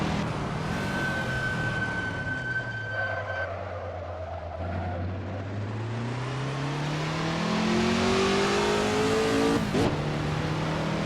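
A race car engine revving at Le Mans in a one-hour race, pitch sliding down and then climbing steadily as the driver downshifts to first, with a sharp high blip near the end over constant road and wind noise.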